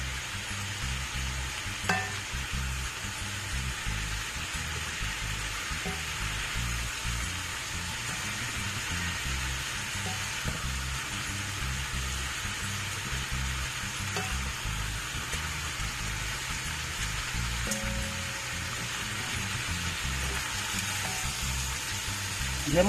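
Spicy Jamaican curry shrimp cooks in a pot with a steady, close sizzle and bubbling that runs throughout, broken by a few faint clinks.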